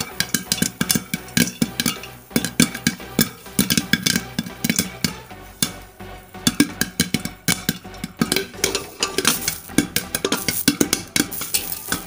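A pot of popcorn kernels shaken on a stovetop burner gives a busy, rattling clatter of hard kernels against metal, coming in irregular bursts of quick sharp ticks and pops that stay close and moderately loud throughout.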